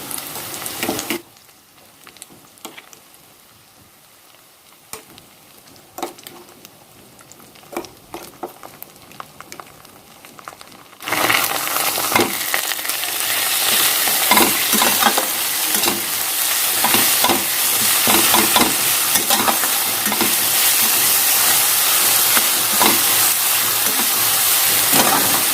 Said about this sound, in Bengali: পেঁয়াজটা বেশ ভালো করে ভাজা হয়ে যেতে আমি এখানে দিয়ে দিচ্ছি এই পেস্টটা।